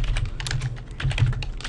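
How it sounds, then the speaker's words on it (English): A username typed on a computer keyboard, a quick close run of light key clicks with no talk. "What you do is type in your user."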